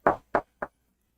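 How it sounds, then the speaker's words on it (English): Someone knocks on a door three times during a tabletop role-playing game session. The knocks are sharp, evenly spaced and close, heard alone with silence after. "Oh, good knock."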